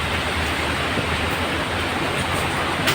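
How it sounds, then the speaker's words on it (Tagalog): Dense, even hiss of heavy rainfall, constant and close, with no speech over it. "Ulan."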